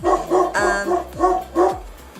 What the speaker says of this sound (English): And my dog barks